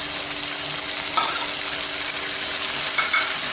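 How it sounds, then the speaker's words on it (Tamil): Spice powders sautéing in oil for a green moong dal kulambu give a steady, close sizzle with faint stirring scrapes, continuous and fairly loud throughout. "கொஞ்சம் எண்ணெயில் வதக்கும் போது இந்த பவுடர்லாம் இன்னும் கொஞ்சம் டார்க் கலராக வரும்."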